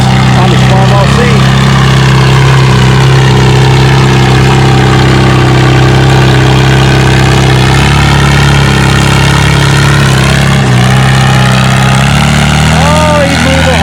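A turbocharged Farmall 460 tractor roars at a tractor pull, its heavy engine droning loud and close with a deep, steady rumble and shifting pitch, while an announcer talks over it.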